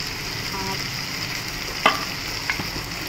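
Coriander powder and chilli powder fry in hot oil in a home kitchen, a steady close sizzle with a couple of sharp utensil clinks and stirring scrapes.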